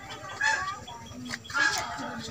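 Native (deshi) chickens on a raised-platform farm give short clucks and squawks in a couple of bursts, close by, over a steady busy barnyard background.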